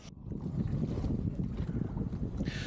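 Steady rush of wind and water around a sailboat under way along the Jurassic Coast toward Lulworth Cove, a continuous close, blustery hiss with low hull and wave rumble throughout.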